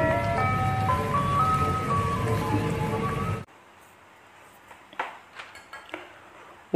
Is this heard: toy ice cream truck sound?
yes